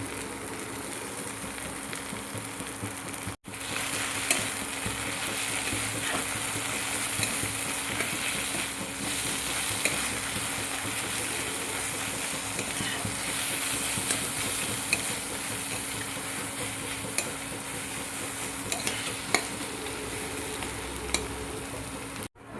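Ginger-garlic paste fries for a cabbage dish in a pan, a dense, steady sizzle running close and loud throughout, with occasional stirring scrapes and clicks and no talk.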